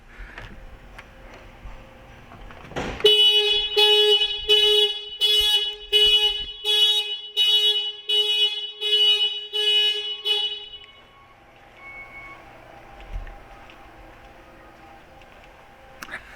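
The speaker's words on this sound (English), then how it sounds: "That's what happens when you lock the car and then try to open the hood." A locked car's alarm goes off when its hood is opened: a loud, rapid pulsing electronic siren of about eight bursts over seven seconds, then it stops, leaving a quiet background.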